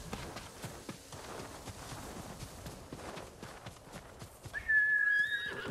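Quick rhythmic hoofbeats of a galloping horse in Ghost of Tsushima thud along steadily, then a loud shrill whinny cuts in near the end.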